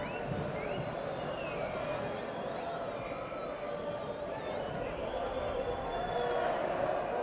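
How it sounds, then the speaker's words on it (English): A football stadium crowd at an international match murmurs and cheers in a dense, continuous roar that holds at an even level, with scattered whistles and shouts rising out of it. "Crowd now in happy mood."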